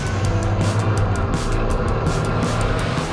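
A high-horsepower rock crawler's engine rumbles steadily at a Japanese rock crawling competition, a close, loud low drone with slight revving pulses.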